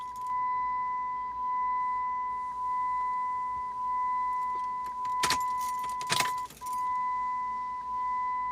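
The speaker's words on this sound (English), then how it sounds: "turning your key from the off position to the accessory position just before start. This is called cycling your key" A Jeep's key turns in the ignition from off to accessory while a steady warning chime tone sounds in pulses, with a brief metallic jangle of keys and clicks near the end.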